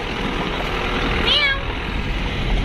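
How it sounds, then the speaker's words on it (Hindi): A single cat meow rising briefly over a steady background of traffic and engine hum at an outdoor roadside spot, fairly clear but short. "बिल्ली."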